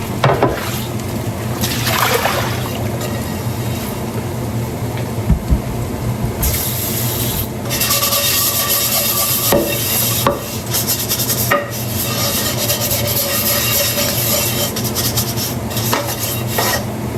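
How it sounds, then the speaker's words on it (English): Shredded cabbage cooks in a home kitchen pan and begins sticking, giving a loud, continuous scraping, rasping sizzle that stays close and steady throughout, with no talking. "I can start to hear my cabbage starting to stick to the pan."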